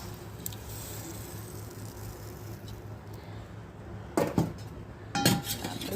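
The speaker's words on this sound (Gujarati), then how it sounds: "હવે એક વખત ચમચ હલાવી દેવાની" A spoon scrapes and clinks against a pot of Gujarati dal cooking on a wood-fired chulha, a few short metallic bursts toward the end over a steady low background hum.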